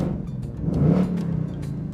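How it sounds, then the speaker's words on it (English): A 2021 Ford Mustang Mach 1 with a 5-liter V8 revs under a low, rumbling exhaust note, the pitch rising and then easing back, heard steadily and fairly close. "The 5-liter V8 sounds absolutely amazing with that exhaust system."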